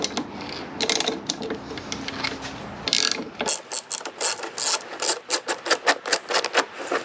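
A hand ratchet clicks rapidly as it turns a T30 Torx bolt on a Porsche Cayenne rear bumper, first in a busy, muffled stretch, then in a run of sharp, evenly spaced clicks close by.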